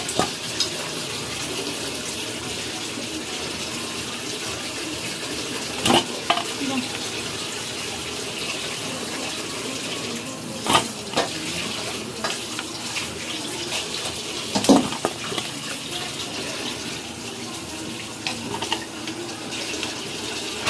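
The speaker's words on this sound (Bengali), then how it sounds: "আর একটু ভালোভাবে তেলের মধ্যে নাড়াচাড়া করে এবার বন্ধুরা তেল থেকে ভালো করে ছেঁকে পকোড়াগুলোকে তুলে নেব।" Chicken pakoras stirred and lifted out of hot oil, a steady broad hiss of frying throughout with a few sharp scrapes and clinks of a slotted spoon against the pan, close and even.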